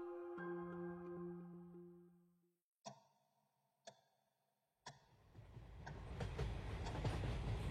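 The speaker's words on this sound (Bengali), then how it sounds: "ট্রেন ছুটছে, ছুটছে দিক বিদিক জ্ঞান হারিয়ে" A train runs at night, starting with a sustained tonal horn-like sound and a few sharp clanks, then building into a growing rumbling rush of wheels.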